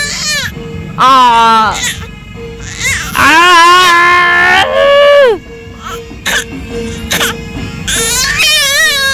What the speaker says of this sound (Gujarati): બહુ ખારી થઈને બૂમો પાડે છે